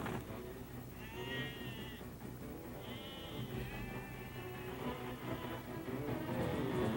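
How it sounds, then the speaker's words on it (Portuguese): Many cartoon sheep bleat together in a dense, continuous chorus, with overlapping wavering cries over a busy, crowded background that runs the whole way through. "são muitas ovelhas"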